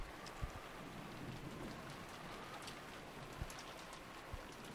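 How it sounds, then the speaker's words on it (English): Steady rain falls in the video game Umineko: When They Cry, a soft, continuous hiss of drops with occasional faint taps, quiet and unbroken, with no talking. "We're in the rain."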